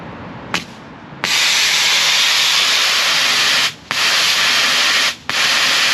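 Nitrous purge hissing from a street-legal California car: after a brief pop, a loud, steady blast of high-pitched gas rushes out, cut by two short breaks before resuming, with no talk.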